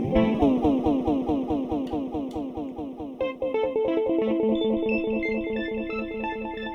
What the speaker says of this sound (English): Arpeggiator and delay.